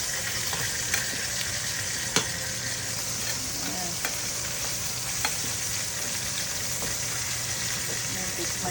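Pork browning in a frying pan for an Italian Sunday sauce with meatballs: a steady, even sizzle and crackle with a few small pops, close and continuous.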